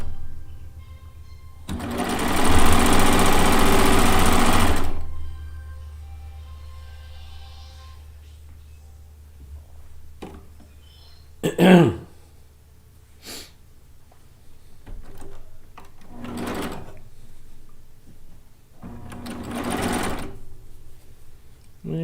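Domestic sewing machine stitching a quarter-inch seam on Kaffe Fassett log cabin quilt fabric: a loud steady run of several seconds near the start, then short stop-start bursts and brief handling noises between them.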